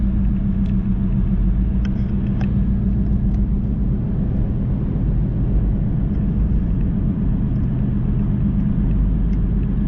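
Steady low road rumble from inside a moving 2016 Honda Civic 1.5 Turbo, with a pulsing, rhythmic whoop-whoop from a worn CV axle underneath as the car drives along.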